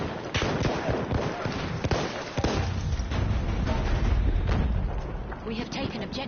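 Battlefield 1 gameplay with heavy weapon fire, including the AT rocket gun: repeated loud booms and blasts amid dense battlefield gunfire and rumble, constant and chaotic from start to finish.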